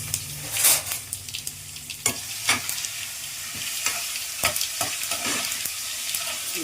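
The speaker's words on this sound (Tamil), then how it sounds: "லைட்டாக எண்ணெயிலே வதக்கிட்டு" Food fries lightly in a little oil in a pan, a continuous close sizzle punctuated by frequent ladle scrapes and taps against the pan, with nobody speaking.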